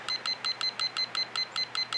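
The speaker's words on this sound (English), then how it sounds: "I'm going to start my timer again because I blew it." A kitchen-style timer beeps while being restarted during an acrylic pouring session: about ten short, evenly spaced electronic beeps in quick succession, clear and close, with no talking.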